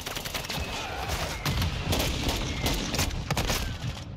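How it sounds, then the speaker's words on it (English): Incoming enemy mortar strike in Modern Warfare 2: a sustained barrage of distant bangs and crackling gunfire, with sharper impacts landing repeatedly over about four seconds, moderately loud throughout. "It's an enemy mortar strike coming in."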